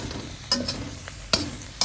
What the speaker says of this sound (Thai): กระทะพอร้อนก็เอาใบชะมวงเนี่ย ลงนาบค่ะ